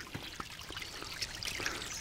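A small creek in a natural setting trickles and burbles softly, with faint scattered splashes and drips over a low, continuous stream of water.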